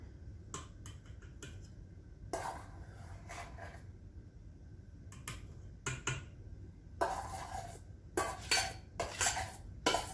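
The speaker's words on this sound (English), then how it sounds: "So we're going to put this in our mixing bowl here, and we're going to beat this together." A cooled milk and flour mixture for red velvet cake icing being beaten in a mixing bowl, with scattered close clinks and scraping bursts of utensil against bowl, growing busier toward the end.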